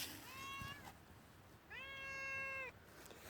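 A pet cat in a greenhouse lets out two loud, drawn-out meows close by, each about a second long and separated by a short pause, with no talking.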